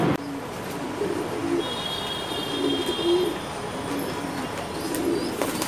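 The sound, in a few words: pigeons cooing at a pigeon market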